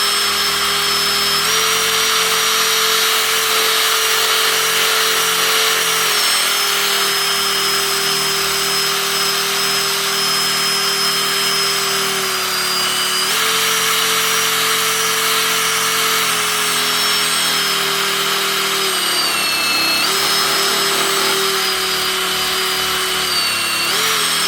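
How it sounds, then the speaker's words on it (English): A steel knife blade is power sanded and polished, giving a loud, steady motor whine with a grinding hiss that wavers slightly in pitch as pressure shifts, continuous and uninterrupted with no talking. "we are most definitely polishing that steel now"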